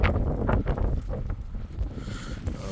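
Wind gusts buffet the microphone on Weymouth Pier in Dorset during sea fishing, a continuous low rumbling roar with uneven surges throughout, loud and close, with no talking.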